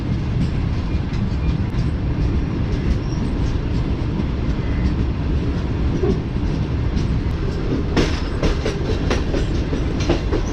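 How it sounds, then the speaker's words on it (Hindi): Tezgam passenger train switching onto a loop line, a continuous loud rumble and rattle of carriages with rhythmic wheel clatter over the joints, and brief sharper metallic clicks near the end. "तो ये ट्रेन हमारी जो है लूप लाइन पर आ चुकी है"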